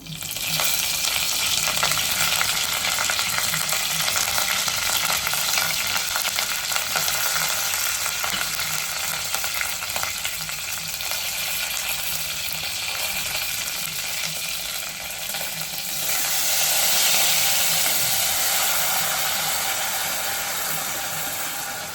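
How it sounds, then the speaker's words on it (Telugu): Curry leaves fry in hot oil, a dense continuous crackling sizzle that holds steady and close for the whole stretch, swelling slightly near the end, with no voices over it. "ఇప్పుడు కొన్ని కరివేపాకు కూడా వేసేద్దాము."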